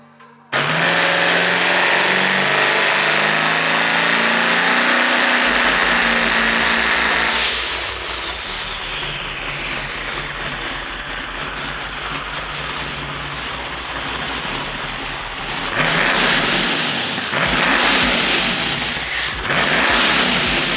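A 4000hp LS-engined car runs loud and close, a steady harmonic engine drone holding for several seconds, then dropping to a rough idle before two sharp revs climb near the end.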